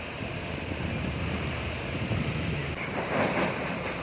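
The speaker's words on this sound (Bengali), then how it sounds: "এই জলের একটা আওয়াজই আলাদা।" Rushing water at the Farakka Barrage dam, a steady broad roar heard from on top of the barrage, continuous and fairly loud with a windy, surf-like wash throughout.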